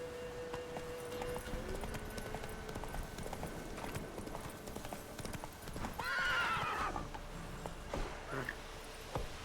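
The horse Roach in The Witcher 3, hooves clip-clopping in a steady walking rhythm, then a loud whinnying neigh midway before the hoofbeats carry on, fairly close.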